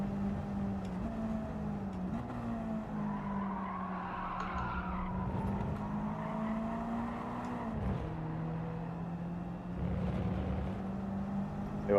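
Race car lapping Daytona in Gran Turismo 7, a steady droning engine note that rises and dips with shifts, with tire squeal through the corners, continuous and close.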